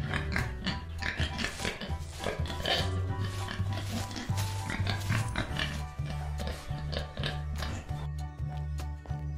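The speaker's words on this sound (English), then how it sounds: "Here are our pigs." Farm pigs and a piglet grunt and snuffle in a busy, cluttered pen, with steady low grunting and scattered clanks and taps throughout and no talking.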